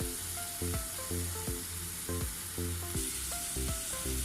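Onion sautés gently in olive oil that is not yet very hot, giving a continuous soft sizzle, with faint clinks and short tonal knocks recurring every half second or so, and no voices.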